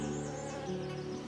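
Orchid bees drawn to a cloth soaked in wintergreen essence make a steady, low, droning buzz that holds throughout, close to the listener and without voices.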